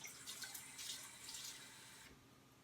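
Warm water runs steadily from a tap into a small bowl at a sink while succulent calcium feed is prepared, a close, continuous hissing stream that eases off and quietens near the end.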